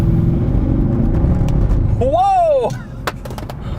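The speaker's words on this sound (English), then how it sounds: "I floored it there, and the traction control was jumping so much that it kicked the iPhone off its mount" A Mercedes CLK63 Black Series floored on a rough road, with loud, close engine rumble and juddering as the traction control kicks in, then a startled shout and a few sharp knocks as a phone falls from its mount.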